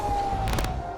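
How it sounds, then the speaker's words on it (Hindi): An air raid siren wails as a steady tone under a brief burst of noise, faint and distant, during Iranian missile attacks on Israeli cities such as Jerusalem and Tel Aviv. "सुनाई थी सायरन की आवाज।"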